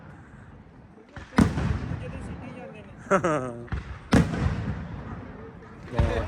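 Sharp firecracker bangs burst out a few times at a village fair in Italy, loud and close, separated by pauses, while people chatter and laugh over them.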